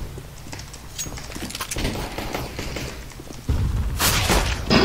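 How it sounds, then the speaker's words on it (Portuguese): Gunfire in a video game shooting match, a series of sharp, fairly loud bursts and thuds with a heavier barrage near the end, over game background noise. "Mais um tiro."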